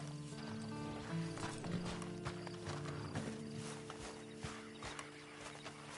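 Hooves of a horse in the video game Red Dead Redemption 2 clip-clop at a slow walking pace nearby over a low ambient drone, with some faint creaks and shuffling in the background.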